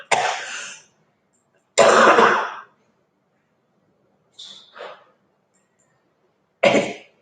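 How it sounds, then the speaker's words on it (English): Several harsh coughs and throat clears, close and loud, separated by silent pauses; two strong bursts, then a shorter pair and one more. "if you hear me coughing"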